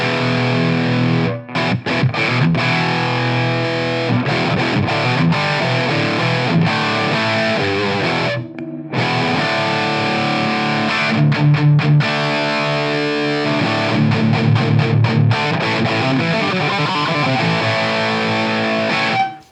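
A heavily distorted electric guitar plays through a Bogner Shiva 20th Anniversary KT88 amp with the mode switch engaged. Loud, dense palm-muted chugs and riffs are broken by a couple of brief stops, with no talking.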